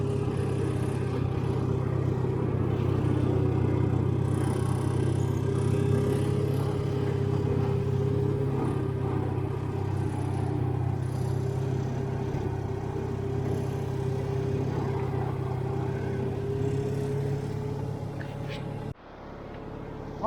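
A Farmall 350 tractor backs a hay wagon, its engine giving a steady, close mid-pitched rumble throughout that cuts off sharply near the end.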